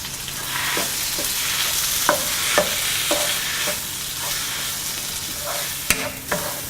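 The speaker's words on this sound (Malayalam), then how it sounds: "കട്ട് ചെയ്ത് വെച്ചിരിക്കുന്ന ടൊമാറ്റോ, മല്ലിയില എന്നിവയിട്ട് നന്നായിട്ട് മിക്സ് ചെയ്യുക" Chopped tomato and coriander leaves are stirred through an onion-based chicken curry base in a sizzling pan, a spatula scraping the metal in steady, irregular strokes over a constant close frying hiss, with no voices.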